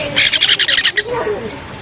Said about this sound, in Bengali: এইগুলোর নাম হচ্ছে সানকনু তো দেখো এগুলো একদম কিউট কিউট বাচ্চা